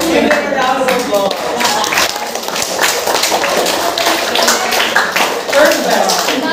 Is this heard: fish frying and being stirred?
no